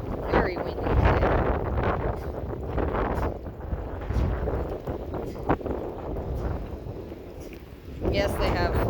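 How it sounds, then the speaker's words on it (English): Gusty wind on a cattle farm roars heavily against the microphone, rumbling loud and close with surging blasts that ease briefly before building again. "It is very windy today."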